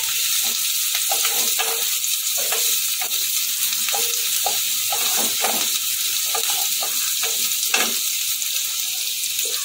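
Chilli garlic prawn egg noodles being tossed over high heat, a steady loud sizzle punctuated by a series of scraping stirs and clanks of the utensil against the pan.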